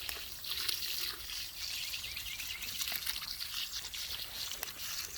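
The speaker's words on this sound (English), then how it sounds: "you take your other half gallon of water and you put it on the plant" Half a gallon of water is poured steadily onto a garden plant outdoors, a continuous close splashing trickle with faint birdsong in the background.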